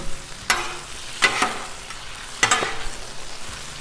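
Taco skillet meat sizzles on a Blackstone griddle in a steady fry, broken by a few scraping stirs of a spatula on the hot flat-top. It sounds close, with no voices.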